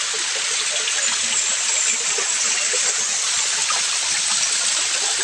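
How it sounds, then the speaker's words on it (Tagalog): Water in an outdoor stream rushes steadily and close by, a continuous broadband flow with no pauses and no voices. "Patunta dito ang tubig."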